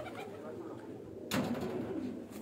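Female pigeons perched on a rooftop coo softly and low, with a sudden rustle or flutter partway through, against steady background hum.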